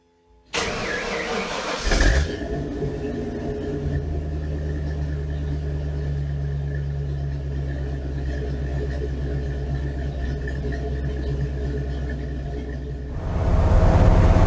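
Steady engine drone of a 460 V8 ramp truck with a ZF5 gearbox cruising in fourth gear at about 45 mph, a low sustained hum with road rumble throughout, rising slightly louder near the end.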